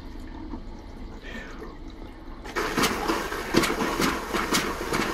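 An RV water pump kicks on partway through, pushing pink antifreeze through the plumbing with a steady buzzing hum and rushing flow, fairly close and loud after a quiet start.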